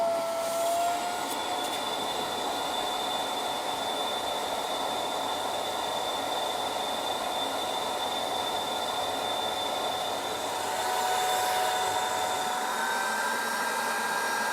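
A Lidl Parkside wet and dry vacuum cleaner runs continuously with a loud, steady whine and airy roar, its pitch shifting slightly toward the end.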